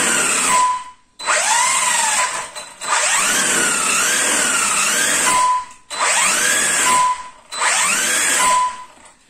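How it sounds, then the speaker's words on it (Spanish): A Maverick Quantum RC truck on an 11.1 V battery, XT 2.0 Flux or MT model, screams through five full-throttle bursts, its high electric whine rising sharply in pitch each time, with brief silent gaps between pulls. "vamos a montarle una batería, vamos a pegarle un gatillazo y vamos a ver también a cada uno en el gatillazo"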